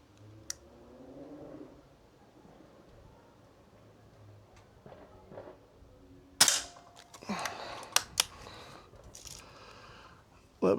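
Air Arms S400 air rifle firing at a paddle target outdoors: a few sharp, separate cracks with metallic clicks and knocks between them, fairly close, over quiet background noise.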